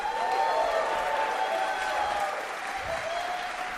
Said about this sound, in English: Let's give a really big round of applause for Dr.